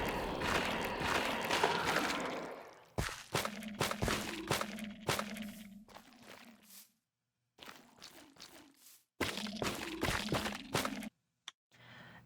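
Minecraft sculk blocks from version 1.19 being placed and broken, a series of short crunchy, rattly knocks in uneven bursts with brief silent gaps between them.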